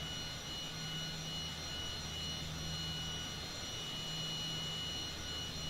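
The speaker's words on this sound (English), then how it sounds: "Engine's coming back." A jet airliner engine in Microsoft Flight Simulator 2020 spools back up, giving a steady, faint whining roar with a constant hum that stays even throughout, no voices.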